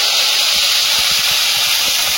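Okra hits hot oil with dry red chillies and whole cumin seeds, giving off a loud, steady sizzle and hiss that runs unbroken from start to finish with no talk over it.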